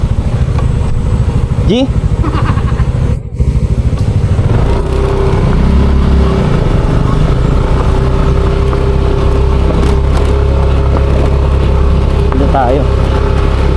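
Motorcycle engine labouring and revving on a rocky riverside trail to a campsite, loud and steady throughout with a mid-clip surge, while people talk close by over it.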